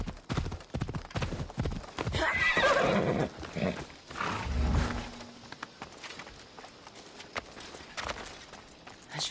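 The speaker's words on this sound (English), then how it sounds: "Looks like a sturdy horse." In Assassin's Creed Odyssey, a sturdy horse clip-clops on hooves with irregular close footfalls and lets out a loud neigh midway, amid ambient game sounds.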